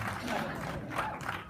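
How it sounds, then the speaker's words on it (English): An audience at a horror film festival Q&A applauds, a dense mix of clapping and crowd noise with a few cheers, steady and fairly close throughout. "big round of applause for Scott."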